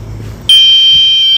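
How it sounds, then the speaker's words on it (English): A DJI Mini SE drone sounds a low-battery alert, a sharp high-pitched electronic beep that cuts in abruptly and holds steady before a short break, loud and close over faint background noise. "That beeping is gonna keep going."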